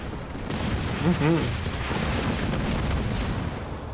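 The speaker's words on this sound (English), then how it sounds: "those mines are just insta-detonating" Mines detonate in a Halo Wars 2 pro league match, producing a rumbling, continuous burst of explosive booms under excited commentary.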